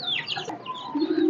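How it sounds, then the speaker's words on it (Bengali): A naked-neck chicken on a small poultry farm gives a brief run of soft, close clucks and chirps with no talking. "এই যে গলা ছেলা মুরগি আছে"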